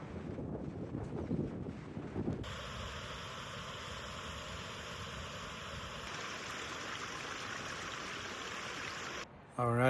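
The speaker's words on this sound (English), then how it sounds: "The wind's picking up a little bit" Wind blows along a mountain trail beside the Big Wood River. It makes a steady, rushing roar that buffets the microphone, then drops off abruptly at the end.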